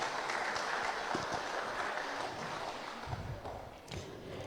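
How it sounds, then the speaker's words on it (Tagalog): A church congregation applauds its pastors at a Sunday service, a fairly quiet, steady wash of clapping that carries on throughout with occasional low thumps. "Ato siguro silang pasidunggan sa atong makabubungog nga palakpak."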